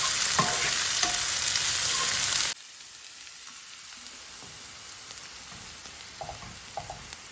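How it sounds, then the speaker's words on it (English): Sliced garlic and onions fry in a pan as the tempering for brown lentil dal. A loud, steady sizzle fills the first two and a half seconds, then cuts off sharply to a quiet background with a few faint clicks. "just add them to the onions so they kind of golden up with the onions"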